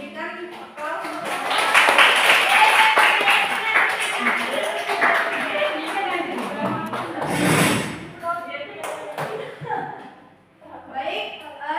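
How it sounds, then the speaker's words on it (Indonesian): A classroom group claps for a student group after its presentation, a burst of many hands clapping at once, loud and close, with voices talking over it. "Berikan aplaus untuk"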